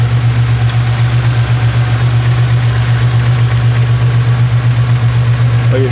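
Chevrolet Cavalier Z24 engine idling nearby, a loud, steady low hum with a faint regular pulse running unchanged throughout.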